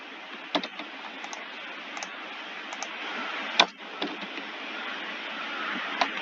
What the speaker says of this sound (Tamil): ஓகே, ஸோ இப்போ நான் டைப் பண்ணிக்கிறேன்.